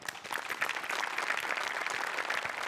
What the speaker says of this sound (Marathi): तुमच्या सगळ्यांच्या आधी सचिन गोस्वामींसाठी टाळ्या